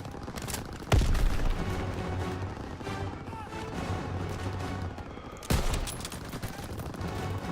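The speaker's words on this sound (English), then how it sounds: "Tossing out a grenade!" A grenade blast and bursts of gunfire in the Call of Duty WWII campaign: two heavy booming explosions hit loud and close, separated by a few seconds of sustained rattling gunfire and battle noise.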